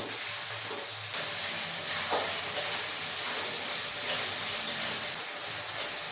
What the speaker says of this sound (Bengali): এখন মশলাটা খুব ভালো করে কষিয়ে নেব।